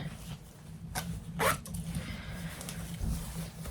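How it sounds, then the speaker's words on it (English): A zipper on a linen dress is pulled up in a quick rasping stroke, followed by a couple of faint fabric rustles, close and quiet in a calm room. "Let me just do the zip up."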